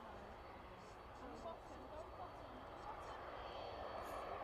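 A passenger airliner bound for Gran Canaria taxis to the start of runway 27 at East Midlands Airport in the evening. Its engines make a steady, distant roar, with some talk faintly underneath.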